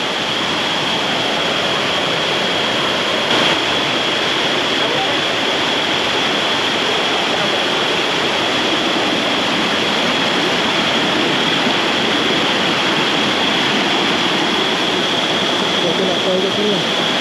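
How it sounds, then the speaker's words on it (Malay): A fast-flowing mountain river rushes in a dense, continuous roar near a hiking trail, loud and unbroken, with voices talking over it. "Tengok air deras weh."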